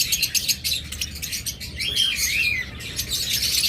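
Lutino opaline pet birds, sold in pairs from a bird farm, chirp and tweet in a busy overlapping chorus, with one clear rising and falling call near the middle and no talking.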